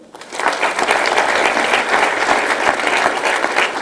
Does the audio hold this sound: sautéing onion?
no